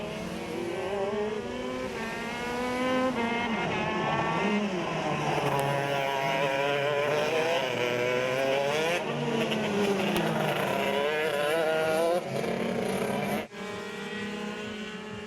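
Shifter-class racing karts howl through the final lap of a 2017 X30 Southeast Asia round, engines screaming continuously and loud with rising and falling revs as they pass close, with no talk over them.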